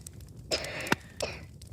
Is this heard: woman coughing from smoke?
yes